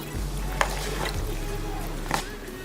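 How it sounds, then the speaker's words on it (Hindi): Cream fruit chaat being stirred together with a runny liquid batter, giving soft wet swishes with a couple of sharper spoon knocks against the bowl, fairly close over a steady low background hum. "और अच्छी तरह से अब हम क्रीम चाट को मिक्स करेंगे।"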